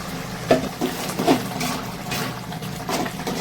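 Fish kuzhambu, a thick Tamil curry, boils in a covered pot, giving soft, low bubbling with a couple of brief louder pops early on. Heard close and quiet, with no talking.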